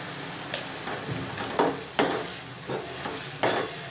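A spoon stirs and scrapes masala frying in a pan for Bengali-style chicken kosa, with a soft sizzle under a few distinct, irregular scraping strokes close by.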